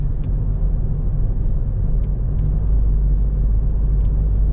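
A car accelerates steadily out of a corner, giving a continuous deep engine and road rumble at close range, with a few faint clicks above it and nobody speaking.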